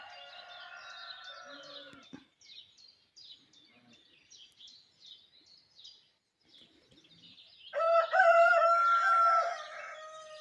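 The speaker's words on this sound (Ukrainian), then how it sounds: "Півні співають." Roosters crowing on a calm, windless spring morning around dawn, one near the start and a louder one at the end, with small birds chirping softly in a quiet stretch between.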